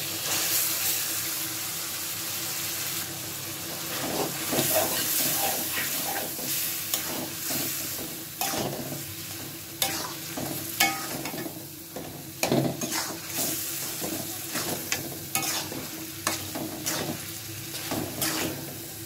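Taro leaves go into a pan where a salted hilsa head has been simmered in spices, bringing a steady soft sizzle with stirring and rustling throughout, with a few sharper scrapes and clatters.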